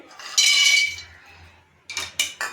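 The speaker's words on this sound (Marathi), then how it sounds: "शेंगदाणे मी भाजून घेते" Peanuts roasting in a pan for sabudana vada, heard as sharp metallic rattles and clinks from the pan, one longer clattering burst followed by a pause, then several quick bursts near the end.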